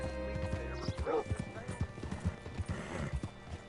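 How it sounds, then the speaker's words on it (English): Horse hooves clip-clop in the Western video game Red Dead, a close, rhythmic run of hoofbeats with a brief whinny early on and voices in the background. "Hitch your horse up here."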